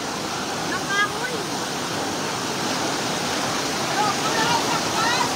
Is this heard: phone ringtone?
no